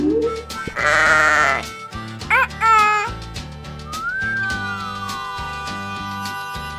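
Sheep bleating in a cartoon alphabet song, a loud wavering bleat followed by short bleats and a whistle-like sliding tone over steady music.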